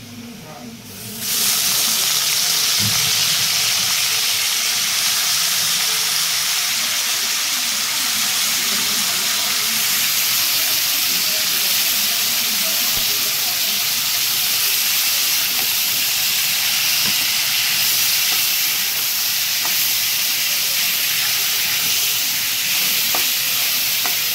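Carrots and capsicum fry in a pan for a cabbage spring roll filling, a loud, close, continuous sizzling hiss that starts abruptly and holds steady with faint stirring scrapes throughout.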